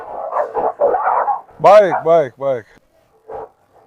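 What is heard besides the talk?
Blue Cane Corso dog barking aggressively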